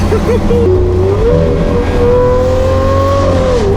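A loud supercar engine revs continuously up close, its high-pitched whine rising and holding steady with a deep rumble underneath.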